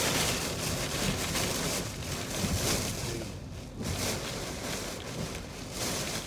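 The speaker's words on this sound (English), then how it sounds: "That was a big gust." Hurricane Idalia's wind roars and buffets steadily in Perry, Florida, a loud broadband rush that surges and eases briefly before building again.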